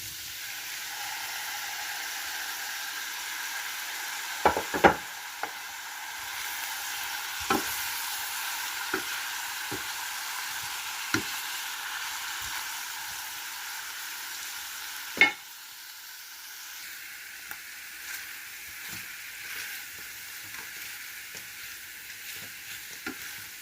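Beef tips frying in a pan, a steady bright sizzle throughout with scattered clicks and scrapes from stirring, close and fairly loud, no talking.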